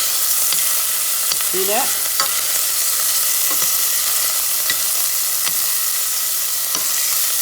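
Ham frying in bacon grease gives a steady, loud, bright sizzle with occasional utensil taps and scrapes, and a brief spoken remark partway through.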